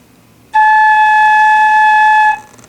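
A flute head joint is blown on its own with the hand taken away from the open end, giving one clear, bright, higher-pitched tone held steadily for nearly two seconds before stopping cleanly.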